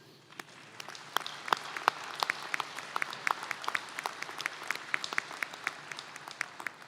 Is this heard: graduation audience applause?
yes